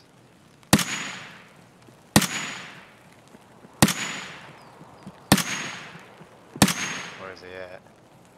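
Five sharp, loud gunshots ring out in Escape from Tarkov, spaced roughly one and a half seconds apart, each with a long echoing tail, and a voice speaks briefly near the end.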